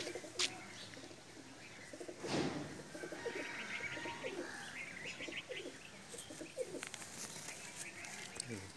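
Pakistani pigeons coo softly in a quiet yard, repeated low rolling coos with a few chirps and a brief flutter of wings, fairly faint, with faint human voices at times.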